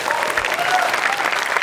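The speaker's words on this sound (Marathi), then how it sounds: "एकदा जोरदार टाळ्या या बहारदार परफॉर्मन्ससाठी." A studio audience breaks into loud, sustained applause after a lively musical performance on a Marathi comedy stage show. The clapping is dense and steady throughout, with no talking over it.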